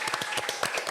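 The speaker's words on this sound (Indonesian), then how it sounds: "Beri tepuk tangan dong." Brief burst of audience clapping at a tourism career talk show, many hands applauding together in a dense, close patter lasting under a second.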